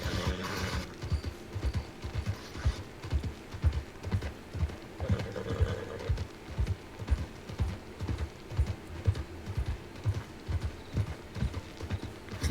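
Horse hooves clip-clop at a steady walking rhythm in Red Dead Redemption 2, a Wild West roleplay setting, loud and close throughout with no talking, and a brief whinny-like sound near the start.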